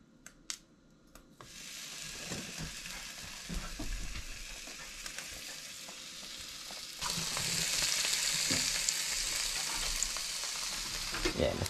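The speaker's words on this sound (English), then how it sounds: "you can only cook bacon on one side" Bacon frying in a pan at a cabin in the woods, a steady close sizzle that swells louder partway through, with light clinks and handling noises and a few faint voices.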